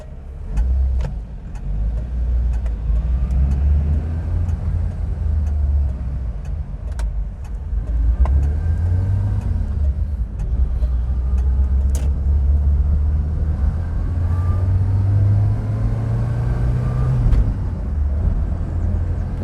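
A Vauxhall Viva HC engine drones low and steady while driving, running lean with some pinking, its rumble rising and falling slightly under road noise without any talk.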